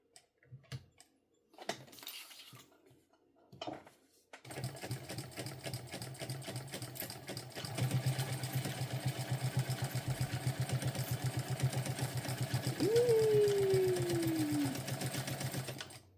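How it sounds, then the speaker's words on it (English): A sewing machine stitches a sling bag, its rapid, even mechanical chatter starting after a few soft handling sounds and running steadily close by, speeding up slightly toward the end, with no talking. "It is fun to sew faster."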